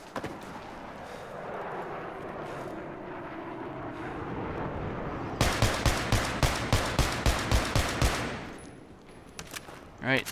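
In the video game Battlefield 3, a Mark 11 rifle is fired in a recoil test, about a dozen sharp, evenly spaced shots in a rapid burst over a steady engine-like drone, then quiet.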